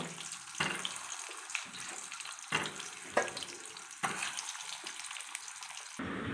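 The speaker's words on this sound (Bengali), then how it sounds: "এখানে আমি কড়াই একটা তেল নিয়েছি, পটলগুলো আমি তেলের মধ্যে দিয়ে দিচ্ছি, হালকা ভেজে তুলে নেব।" Pointed gourd (potol) frying in oil in a wok, a steady sizzling hiss with faint stirring and scraping clinks, close and continuous with no talking.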